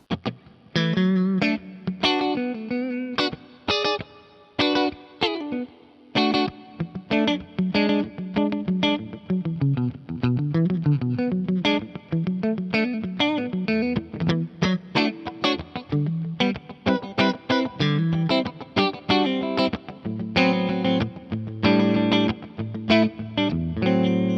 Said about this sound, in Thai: ลองฟังแบบตัดคอยทั้ง 2 ตัวผสมกันนะครับ